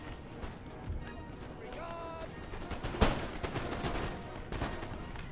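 Massed musket and artillery fire in a Napoleon: Total War battle, with gunfire bursts crackling against fusiliers, one sharp loud volley near the middle, over a constant din of battle and voices.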